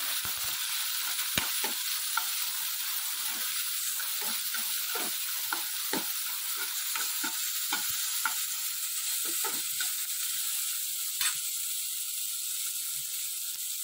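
Onions fry with salt in a pan, a steady close sizzle running throughout while a utensil scrapes and taps the pan in frequent irregular strokes; no voices.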